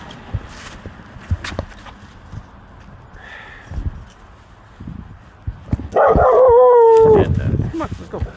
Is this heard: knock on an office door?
no